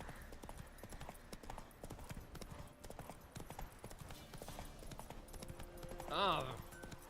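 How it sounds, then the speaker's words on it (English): Horse hooves clip-clopping in The Witcher 3, a quiet, steady galloping rhythm that runs throughout, with a brief whinny or game sound near the end and a person talking over it. "I couldn't sprint on Roach there for a little while."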